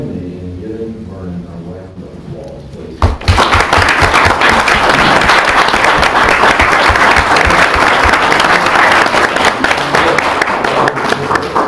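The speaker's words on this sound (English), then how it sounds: "Join me in giving Vernon a round of applause, please." A city council audience breaks into loud, sustained applause, a dense wash of clapping that starts abruptly about three seconds in after a quieter stretch and carries on steadily to the end.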